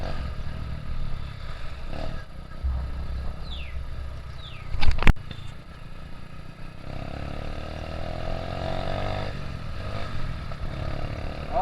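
A 2004 Honda Supra motorcycle engine hums steadily while riding on a road trip, with wind noise throughout, a sharp clatter burst midway, and passing traffic swelling near the end.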